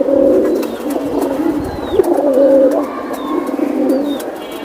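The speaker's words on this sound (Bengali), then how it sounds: "কবুতর মন কাড়ার মতন একটা কবুতর জোড়া দিয়ে দিল" A pair of silver pigeons cooing close by in repeated low, rolling phrases, with faint higher chirps in the background and no talking.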